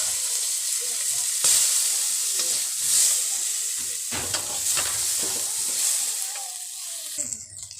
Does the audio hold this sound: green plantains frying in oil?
yes